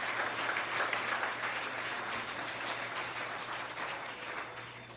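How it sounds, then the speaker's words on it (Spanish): Sustained applause from a church congregation during a sermon, a dense steady patter of many hands that holds for several seconds at moderate loudness and eases slightly toward the end. "Denle un aplauso al Señor."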